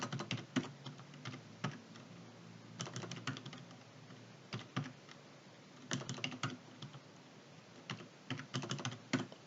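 Rapid bursts of typing on a computer keyboard during Excel data entry, clustered key clicks in quick runs with short pauses between groups, fairly quiet and close, with no talking.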